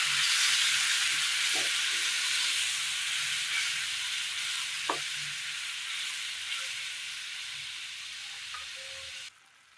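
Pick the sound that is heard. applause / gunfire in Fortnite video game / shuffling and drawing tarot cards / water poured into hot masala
water poured into hot masala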